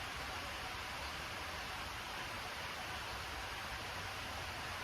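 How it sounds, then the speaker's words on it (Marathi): Rain falls in a soft, steady hiss, even and unbroken throughout, fairly faint with no other sounds. "छानचा पाऊस पडतो आहे"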